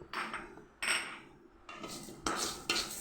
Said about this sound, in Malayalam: ഉലുവ വറുത്തെടുക്കാം